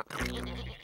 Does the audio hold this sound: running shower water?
no